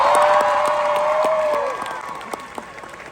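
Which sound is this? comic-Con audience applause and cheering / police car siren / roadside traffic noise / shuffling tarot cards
comic-Con audience applause and cheering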